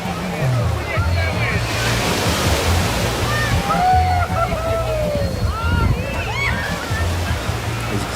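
Ocean surf of a rising tide at Waikiki beach, steady washing and sloshing of waves close by, with people talking and voices chattering over the water throughout.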